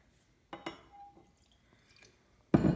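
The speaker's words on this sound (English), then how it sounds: "So let's pour ourselves a little dram here." Laphroaig Cairdeas 2013 Port Wood Edition whisky poured as a small dram into a glass, with a few close, quiet clinks and brief liquid trickles, ending in a louder knock of glass.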